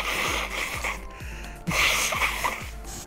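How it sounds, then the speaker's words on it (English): A person blows their nose during a parkour game session, a breathy snorting burst repeated through the clip over steady background game sounds. "I need to blow my nose."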